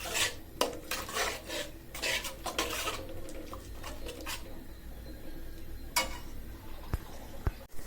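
Spice paste stir-fried in a pan, heard as bursts of rasping scrapes from a spatula with a few sharp metallic clinks, close up over a low background hum.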